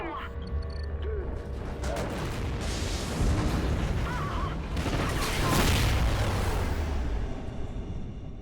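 A space station explodes in the video game Call of Duty Ghosts: a heavy, sustained rumbling roar with deep booms and mechanical creaking that swells twice and fills the whole stretch without letting up.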